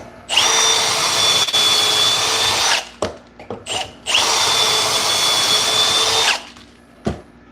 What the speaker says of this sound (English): Drilling that in is gonna suck.